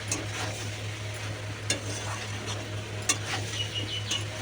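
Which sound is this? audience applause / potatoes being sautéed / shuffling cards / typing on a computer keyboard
potatoes being sautéed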